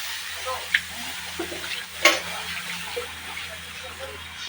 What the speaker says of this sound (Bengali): কাঁচা লঙ্কা দিয়ে এবারে হালকা জল দিই